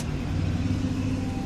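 Mercedes 600 engine with a throttle actuator fault idling just after being started, a steady low rumble close by with no voices.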